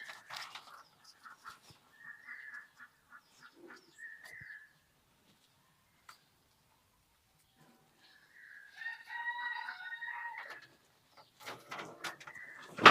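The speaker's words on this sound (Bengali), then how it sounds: "কিছু দেশি মুরগি আমার মা পুষেছে" Domestic desi chickens make scattered clucks and calls, with a rooster crowing loudly near the middle and more fowl cries at the end, separated by quiet gaps.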